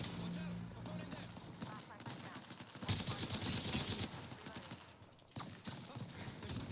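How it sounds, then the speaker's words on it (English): Bursts of automatic gunfire in the shooter video game Apex Legends during an ambush, rapid clattering volleys of fairly faint shots, with a sharper cluster midway and a lone crack near the end. "Oh, they're shooting at me."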